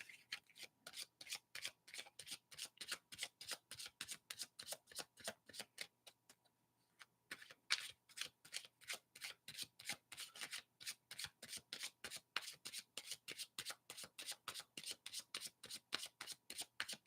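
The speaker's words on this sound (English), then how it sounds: "Let's pull some cards and see what we get for Anne's Human." Tarot cards are shuffled by hand during a live reading, producing rapid, regular riffling bursts in a steady rhythm, close and crisp, with one short pause midway.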